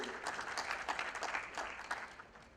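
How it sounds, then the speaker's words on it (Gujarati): An audience at a lecture gives steady, dense applause for Piyushbhai Patel, a continuous wash of many hands clapping without pause, fairly loud and close. "એક પિયુષભાઈ પટેલ માટે જોરદાર તાળી પાડો"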